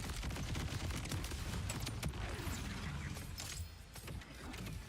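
Sticky grenades going off in the video game Borderlands 4, a dense continuous barrage of blasts and crackling gunfire with scattered sharp cracks, loud and steady throughout.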